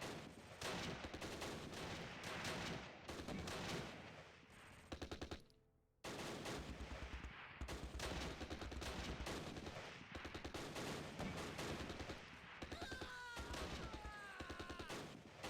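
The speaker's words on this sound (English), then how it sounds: "a lot of Vickers MG fire coming out from somewhere" Vickers machine gun fire in the Close Combat video game at Pegasus Bridge, dense sustained bursts of rapid automatic fire with a short pause midway and high whizzing tones toward the end, no talking.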